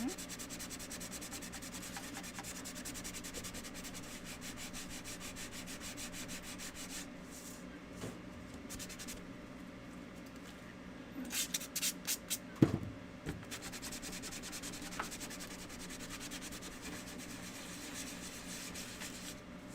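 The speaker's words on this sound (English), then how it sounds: "grab our sandpaper here. Just gonna lightly go over everything." Sandpaper lightly rubbing over small handmade wooden shelf sitters, a steady close scratchy rasp that runs on with brief pauses and a few quicker, harder strokes partway through.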